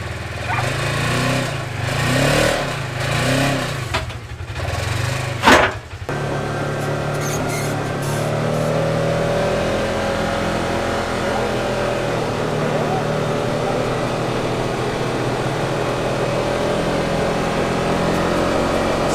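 Small engine of a cheap, newly rebuilt UTV idling steadily and close by, a steady drone that runs on without stopping after a brief burst of louder noise near the start.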